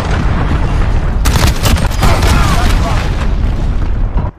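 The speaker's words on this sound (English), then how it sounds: "Enemy cruise missile, take cover" A loud, booming blast from an enemy cruise missile strike in the Call of Duty: Modern Warfare beta, a roaring explosion with rumbling gunfire, sustained for several seconds before cutting off.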